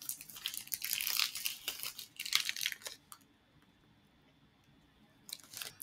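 Someone bites into and chews a soft peanut butter protein bar made with a calcium caseinate and whey blend, giving close, crinkly munching bursts for about three seconds, a short quiet pause, then another chewing burst.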